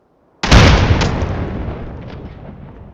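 A grenade explodes in the Escape From Tarkov shooter game: one sharp, loud blast that starts abruptly and rolls off into a long fading rumble and debris tail, heard alone.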